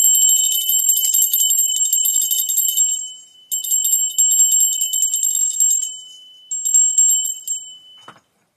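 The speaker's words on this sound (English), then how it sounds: "I'm going to ring the bell." A small bell rings in three bursts of rapid, bright metallic trilling with a sustained high tone, each pause briefly silent, ending in a light tap and then quiet.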